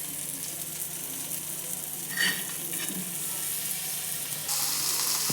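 Bangude (mackerel) fish coated in rava shallow-frying in coconut oil, a steady close sizzle and hiss throughout with a brief sharper spatter midway and a brighter surge of frying near the end, no talk.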